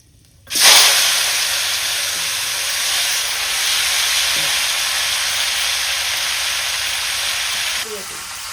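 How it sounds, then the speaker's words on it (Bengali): Cumin seeds and whole spices hit hot oil with a sudden loud hiss, settling into a steady, close sizzle that continues throughout, with faint stirring near the end, while Bengali fish and bottle gourd curry is cooked. "দিয়ে দিলাম জিরে আর ফোড়ন।"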